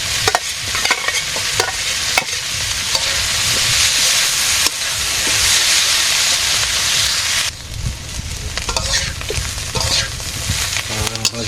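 Egg frying and being stirred in a pan on a home stove: steady loud sizzle and hiss with intermittent scraping stir strokes, continuous throughout.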